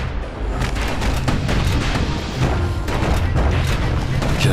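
Guns in the video game Bastion fire on a boat as a security skiff pulls up portside, a dense, continuous barrage of booming, crackling shots with no break, loud and close throughout.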